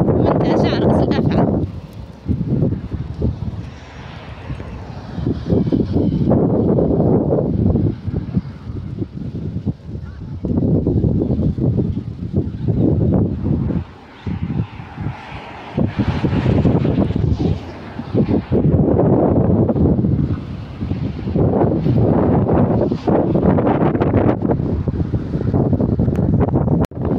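Hot wind gusts hard across a beach at Sidi Bouzid in Safi, Morocco, a loud, roaring buffet against the microphone that swells and dips continuously.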